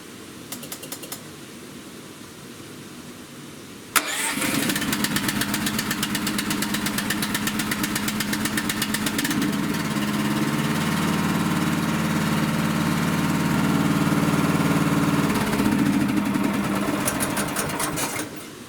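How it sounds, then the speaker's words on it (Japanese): A small snow blower engine cranks with the choke pulled on a cold engine, catches with a sharp burst, then runs at a steady, loud rattling idle that shifts slightly in pitch near the end. "そしてエンジンが冷えているのでチョークを引いて始動していきます。"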